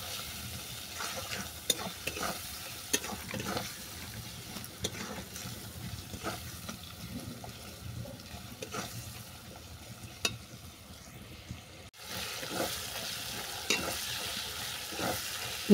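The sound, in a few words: spice paste being sautéed and stirred in a pan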